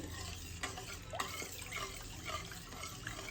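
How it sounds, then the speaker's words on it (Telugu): Chana dal, mustard seeds and cumin temper in hot oil with a soft, uneven sizzle and a few stirring scrapes, fairly quiet and close, with no speech. "ఇవి కొంచెం ఆయిల్లో మగ్గాలి, తాలింపు అనేది."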